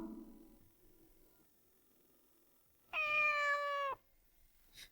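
After a quiet stretch, a single clear, drawn-out meow from an injured, bandaged kitten sounds close by, followed by a brief faint noise.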